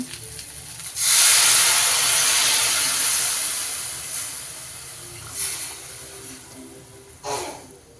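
Water poured into a hot pan on a high gas flame bursts into a loud hissing rush of steam that slowly fades, with two shorter hisses following later, with no talking.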